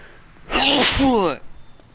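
One loud, close human sneeze, a sharp inhaled build-up bursting into a forceful expulsion that cuts off quickly, then quiet.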